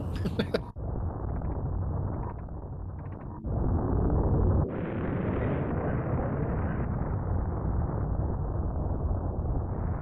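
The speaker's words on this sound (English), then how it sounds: "Our last image of the Zebes clouds and the planet exploding." Planet Zebes exploding at the end of the video game Super Metroid: a loud, sustained rumbling blast with crackling bursts, swelling halfway through and roaring on steadily to the end, with no talk.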